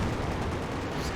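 Dense, continuous battlefield gunfire from Company of Heroes 2, a WWII real-time strategy game, with overlapping shots and explosions forming a loud, steady wash of combat noise.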